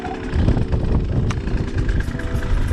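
A 2021 Beta 200RR two-stroke dirt bike runs in first gear at low revs on tight single-track, its engine chugging and burbling steadily and close by, with no voices over it.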